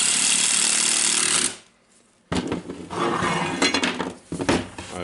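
A Makita GA9050 industrial angle grinder runs after new brushes were fitted: a loud, high whine that cuts out for under a second, then starts again and holds with small surges and fluctuations.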